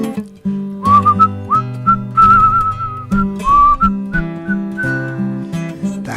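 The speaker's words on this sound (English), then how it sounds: "well, whistling a happy tune" Someone whistles a cheerful, bouncy tune alone, clear and close, in short melodic phrases over a low sustained accompaniment.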